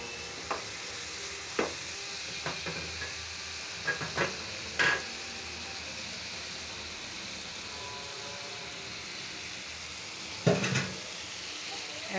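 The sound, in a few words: masala spice paste frying for koi fish curry with tomato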